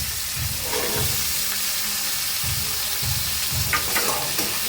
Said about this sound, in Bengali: এগুলো ভাজবো ভালো করে।